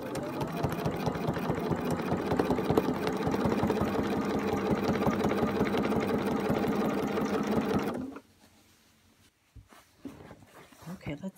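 A sewing machine stitching brown top thread over a gold bobbin thread runs in a loud, fast, steady mechanical chatter for about eight seconds and then stops abruptly, leaving quiet handling noises, with no talking.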